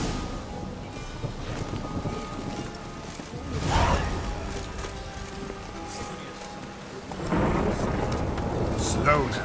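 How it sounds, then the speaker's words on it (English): Thunder rumbles in from approaching weather in The Witcher video game, two deep rolling swells rising over a soft bed of rain and ambient game sound, fairly close and heavy. "The noise of the thunder coming in with the weather here."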